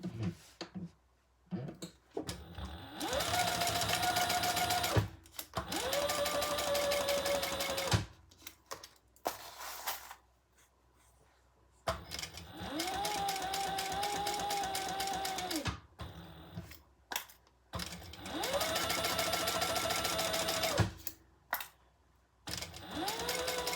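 A sewing machine top stitching a crossbody bag runs in several bursts of a few seconds each, a steady mechanical whir with rapid needle chatter, separated by short pauses and handling clicks, close and clear with no talking.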